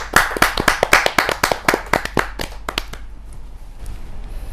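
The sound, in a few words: audience clapping to welcome a poet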